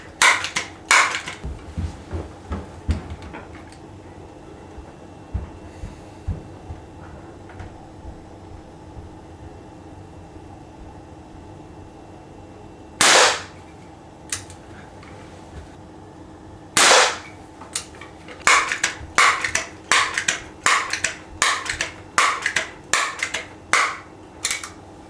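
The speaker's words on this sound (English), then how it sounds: "I'm going to fire 3 or 4 shots at a target 15 yards away and see how we do" A Crosman 2289G air rifle fires at a target 15 yards away. Sharp, dry cracks stand alone: one early, two more midway, then a quicker run of snaps near the end over a faint background.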